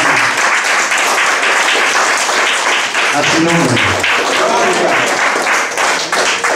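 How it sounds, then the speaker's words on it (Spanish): A church congregation applauding during a Spanish-language sermon, dense steady clapping from many hands filling the room, with a pastor's voice speaking over it briefly. "¿Cuánto le da un fuerte aplauso?"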